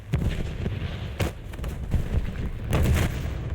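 A bomb dropped from an F-109 explodes in War Thunder, a dense run of booming blasts and crackling rumbles rolling on for several seconds with no talk over it.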